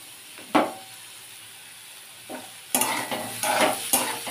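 Vegetables with chopped seedless tomato and ginger are stirred in a pan for an evening snack, giving a soft scrape, then louder sizzling scrapes in repeated bursts near the end.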